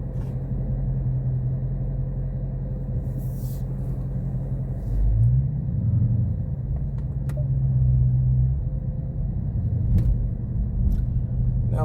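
A Dodge Charger 392 drives along with a deep, steady engine rumble heard from inside the cabin, swelling briefly as it pulls harder midway before settling back to a low drone.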